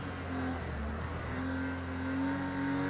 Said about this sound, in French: Descente des rapports.